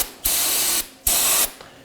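Brake cleaner sprays onto the wheel knuckle of a 2018–2024 Chevrolet Equinox in two loud, close hissing bursts of about half a second each, separated by a short pause.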